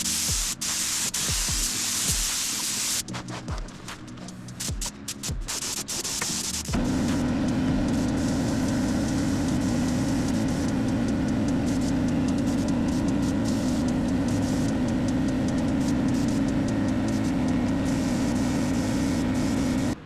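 A first-timer's HVLP spray gun lays epoxy primer onto a Datsun 280Z body, a steady loud hiss of air and atomized paint that runs continuously through the latter two-thirds after a stretch of broken, intermittent bursts and clicks.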